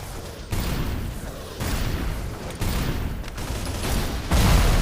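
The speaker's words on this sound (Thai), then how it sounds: "ยิงกล่องกระสุนข้างปืนใหญ่" Gunfire in the video game Snowbreak aimed at ammunition boxes beside a cannon, sustained rattling bursts with booming impacts, loud and dense, broken by brief pauses between volleys.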